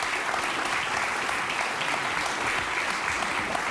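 Steady, dense applause from a live talk-show audience runs at an even level throughout, with no pauses or voices breaking through.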